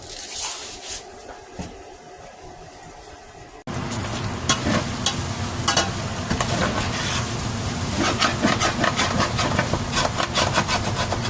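A hamburger patty sizzles on an outdoor barbecue grill, giving a steady, dense hiss and crackle that jumps louder partway through and keeps going without pause.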